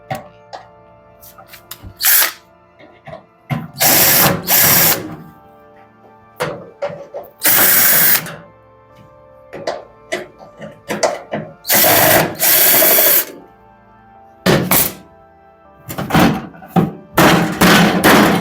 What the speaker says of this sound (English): now we will remove the all the screws are here